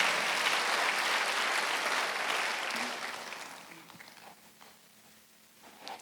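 Congregation clapping during a Sunday worship service at a Korean church, a broad sustained burst that fades out over the last few seconds, leaving near quiet.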